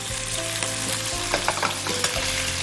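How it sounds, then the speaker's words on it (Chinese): Chicken and porcini mushrooms with cured pork stir-fry in a hot wok, a loud steady sizzle of oil with scraping, tossing bursts from the spatula throughout, no voices. "它最容易的话就是那种扒锅， 所以要不断的翻炒"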